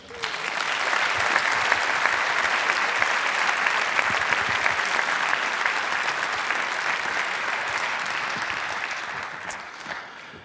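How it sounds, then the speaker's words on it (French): A large audience applauds warmly at an evening storytelling event as the speaker is welcomed to the stage, a dense, sustained roar of clapping that holds steady for about ten seconds before tapering off at the end. "Merci d'applaudir très fort Joachim Ronsin."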